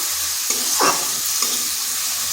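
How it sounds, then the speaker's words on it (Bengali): Spice masala of turmeric, cumin, coriander and chilli powder sizzling in a pan for a pumpkin and egg curry, with a few close scraping stirs of a spatula over a steady frying hiss. "মশলাটা একটু কষে নিচ্ছি।"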